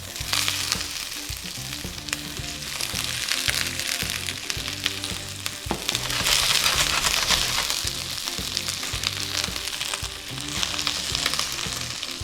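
Chopped onions sizzling in hot oil in a wok over high heat for a tomato and egg stir fry, a loud steady crackling hiss with spatula scrapes and stirring clatter throughout, no voices.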